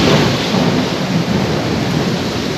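Heavy downpour in Metro Manila: loud, dense roar of rain with a deep rumbling thunder wash underneath, steady and close throughout, no talk.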